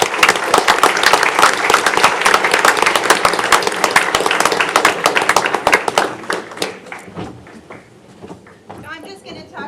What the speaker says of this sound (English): they deserve a round of applause for everything they accomplished.